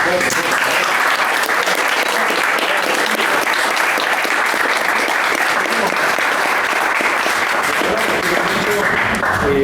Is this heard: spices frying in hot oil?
no